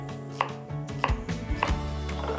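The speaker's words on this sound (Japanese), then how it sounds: "そしたらこの間に材料をカットしていきます。 まず玉ねぎ、" A kitchen knife chops through an onion along the grain on a cutting board, three or four firm, evenly spaced thuds with faint scraping between them, close and clear with no talking.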